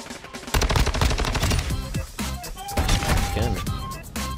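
Rapid bursts of automatic gunfire from the Modern Warfare 2 video game crackle loud and dense throughout, with heavy repeated shots and a faint voice briefly underneath.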